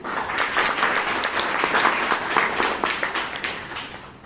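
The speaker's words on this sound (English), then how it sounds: "let's give him a wonderful a thunderous applause for him" An audience at a Toastmasters meeting gives a warm, steady round of applause, dense clapping at moderate loudness that thins slightly toward the end.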